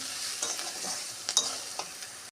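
Boiled taro greens and spices being sautéed in a pan, a steady broadband sizzle with several sharp scraping stir strokes from a spatula, close and moderately loud, no voices.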